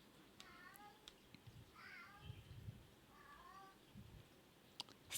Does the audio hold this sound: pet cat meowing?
yes